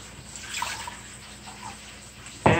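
A cup of water pours out in a short, bright splash near the end, after a quiet stretch of faint trickling, while Jamaican-style escovitch fish sauce is being made.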